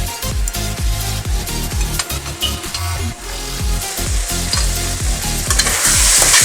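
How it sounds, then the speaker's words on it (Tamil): Tomatoes sautéing in a pan for a South Indian village-style fish gravy, with a steady sizzle under rhythmic, repeated scraping strokes of a spoon stirring the pan, close and fairly loud. "இந்த தக்காளியை நல்லா சாஃப்டாக வதக்கணும்."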